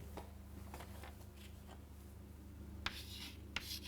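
A pen writing a single word by hand in a quiet room, soft intermittent scratching strokes over a steady low hum, with a couple of sharper taps near the end.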